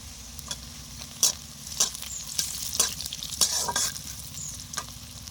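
Banana stem fries in a pan with turmeric powder, a steady close sizzle broken by several sharp scrapes and clacks of a spatula stirring against the pan.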